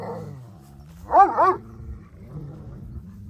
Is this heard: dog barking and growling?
yes